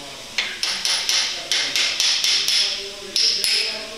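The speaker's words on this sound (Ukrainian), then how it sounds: "Просить молотка." Work on an Audi S6 C5 4.2 V8 engine during ring and bearing assembly: about a dozen sharp, evenly spaced hammer taps ring out close and clear, with no talk.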